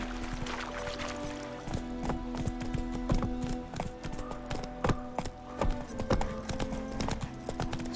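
Hooves clip-clop in a quick repeated gallop rhythm as the horse Roach runs in The Witcher 3, with a tonal game soundscape humming underneath and no speech.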